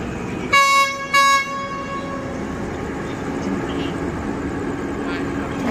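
Long-distance train horn sounding at night at Bang Sue Junction, two loud sustained blasts in close succession, followed by low rumbling ambience of the station yard with a faint voice.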